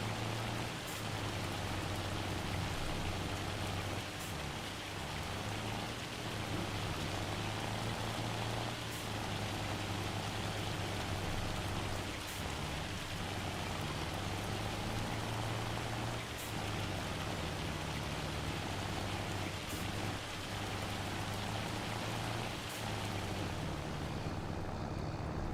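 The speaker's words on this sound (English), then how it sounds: "it's going to take a moment for that hail to stop" Steady hail and rain pour down across a farm in Farming Simulator 25, a dense, continuous wash of drops with a low droning hum beneath and faint periodic ticks, no voices present.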